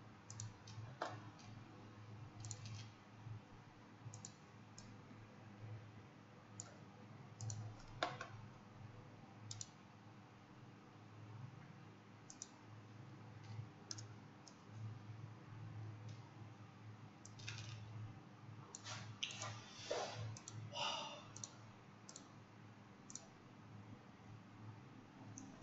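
A computer mouse clicks sporadically, with sharp single and clustered clicks scattered over a faint room hush. It sounds quiet and close, with several bursts of clicking near the end.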